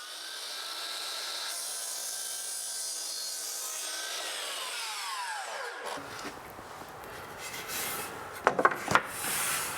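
A saw cuts through wood door casing at a 45-degree miter, a steady rasping stroke sustained for about six seconds before it stops, followed by a few light knocks and handling sounds nearby.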